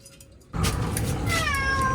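A cat meows loudly and close by at a tent pitched for winter camping in heavy snow, a drawn-out cry that starts after a brief near-silence and carries on to the end.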